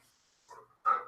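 A pet dog indoors gives two short barks or yips, a softer one followed by a louder, sharper one, with near silence before them.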